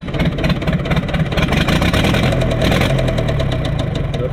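A Universal 550 tractor engine runs steadily with an injector pipe loosened, giving a continuous loud, rough low knocking idle throughout with no talk.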